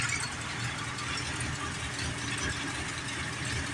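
A 1970 Mustang engine idles roughly on its own, a quiet, weak, uneven low rumble that pulses irregularly, with no one speaking.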